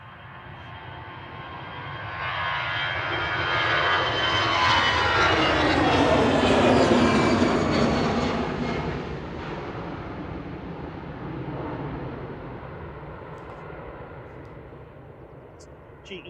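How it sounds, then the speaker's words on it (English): EasyJet Airbus A320 jet airliner taking off from Manchester Airport: a loud, rising engine roar swells to a peak and then fades slowly as the plane climbs away, with a voice talking over it. "That's the noisy A320 Classic."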